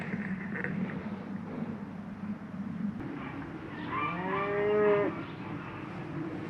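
Cows on a farm low, with one long, loud, wavering moo rising near the end over a steady outdoor rumble.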